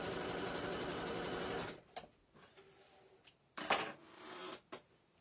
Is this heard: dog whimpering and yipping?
no